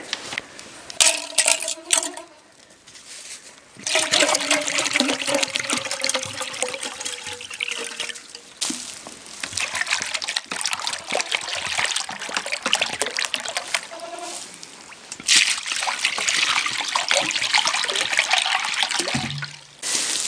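Water gushes and splashes into farm animal waterers in long continuous pours during an ice storm, broken by short pauses and a few clanks, fairly close.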